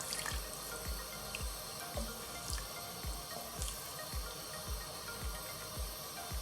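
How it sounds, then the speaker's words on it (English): Water poured into a cooking pot while making salmon curry, a steady faint trickle with a soft repeating low splash pattern, heard alone with no talk. "So at this point I'm going to add water."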